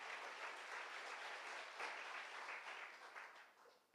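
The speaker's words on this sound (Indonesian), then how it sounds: "Tepuk tangan yang lebih baik bagi Tuhan kita." A church congregation keeps applauding for God in a sermon, a sustained, even patter of many hands at moderate distance that tapers slightly toward the end, with no talk over it.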